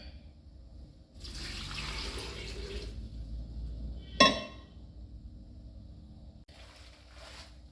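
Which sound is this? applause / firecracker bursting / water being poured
water being poured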